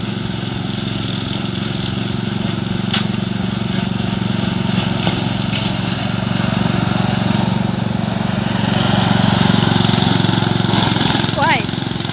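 An Orec RM85B ride-on lawn mower drives along, kicking up dust, with a steady, loud engine drone throughout. People talk faintly over the engine noise.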